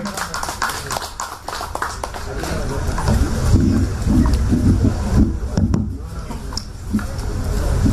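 An audience at a Chennai port Tamil society debate event applauds to welcome a speaker, with scattered clapping under a voice over a microphone and rumbling hall noise.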